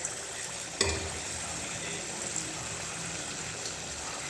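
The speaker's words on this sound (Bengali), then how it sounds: "দেখো ওরকম করে সবগুলো ভেজে নিচ্ছি।" Pieces of dhuska batter frying in hot oil, a steady low sizzle and bubbling that runs the whole time, with a brief clatter near the start and a few soft utensil touches.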